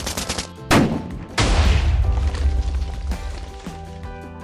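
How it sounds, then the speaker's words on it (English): A Gatling-style machine-gun turret from a Minecraft mod fires loud, rapid bursts of shots, with sharp cracks that run together into a sustained rattling volley. "MG turret is similar to Gatling, can fire tons of bullets."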